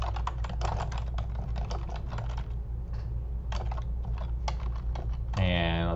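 Steady, brisk typing on a computer keyboard, close and clear, with rapid key clicks and a brief pause midway, while a person talks lightly over it near the end.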